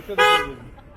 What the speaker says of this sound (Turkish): Korna